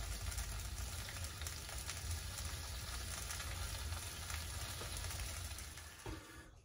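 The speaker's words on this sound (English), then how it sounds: "with this naan, we're just grilling it lightly" Naan grilling lightly on a pan, giving a steady, close sizzle and crackle throughout that fades slightly near the end, with no talking.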